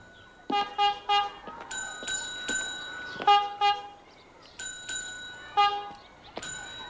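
A bell dings back in quick rhythmic bursts, echoing a pattern of horn toots, close and clear against a quiet background.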